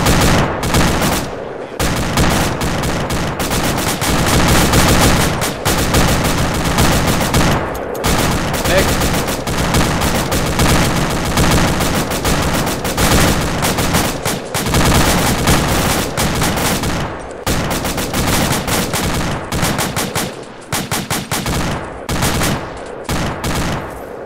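Dense gunfire from a military shooter game rolls on almost without letup, with rapid machine-gun bursts and heavy volleys close and loud, broken only by a few brief gaps.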